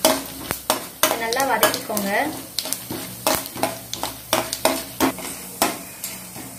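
Cumin seeds sizzle in hot oil while being stirred, a crackling fry under repeated scraping strokes of a spoon in the pan, with a brief voice murmuring in the background.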